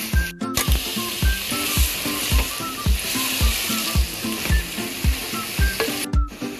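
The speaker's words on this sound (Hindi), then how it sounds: "प्याज को हमने ऑयल के अंदर फ्राई कर लिया है 1 मिनट के लिए" Chopped onions frying in hot oil for a U.P.-style beef stew, a steady loud sizzle broken by regular scraping strokes of stirring, close up and with no talking.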